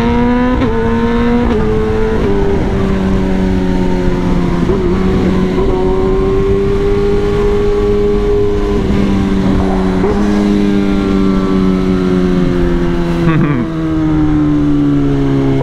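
A Kawasaki motorcycle rides along with its engine close and loud, shifting up through the gears in rising and falling pitch sweeps over a steady road rumble.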